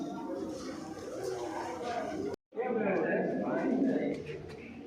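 Pigeons coo in an old stone stepwell at Uparkot fort, a steady soft murmur of calls echoing from niches in the cut rock walls, broken by a brief gap, with a person talking over them.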